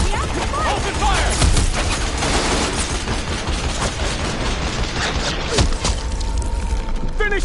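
Gunfire erupts in Horizon Forbidden West amid a loud, dense battle mix of bursts, booms and clanking mechanisms, with voices shouting over the chaos.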